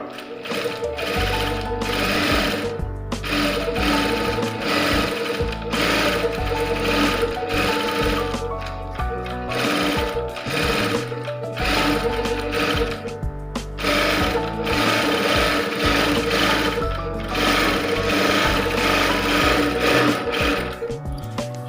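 A sewing machine stitches cloth piping in quick, rhythmic bursts of close, loud mechanical whirring, briefly pausing between runs.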